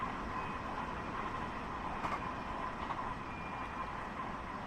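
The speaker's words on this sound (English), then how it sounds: "so I'm bringing the train down to a slow speed" Long Island Rail Road train slowing on the main line for a station stop, a steady, continuous rumble of wheels and rail noise with faint high squeals, heard from on board without talk.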